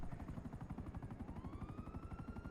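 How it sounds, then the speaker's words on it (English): In a Grand Theft Auto game, an aircraft passes overhead with a rapid, pulsing rotor-like chop, and a rising engine whine climbs steadily in pitch. The sound is fairly faint and continuous, with no speech. "I hear a plane."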